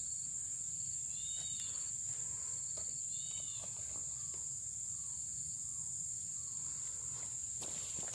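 Field crickets kept as fishing bait for baung catfish on a riverside tributary, giving a few faint, brief chirp trills over steady insect buzz and low rustling.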